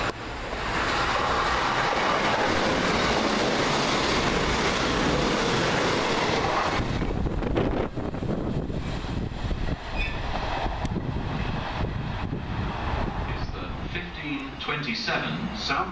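A South Western Railway train passes through Swaythling station, a loud, steady roar of wheels and rail noise for several seconds that then eases into a rumbling, lighter rolling sound with faint squeals.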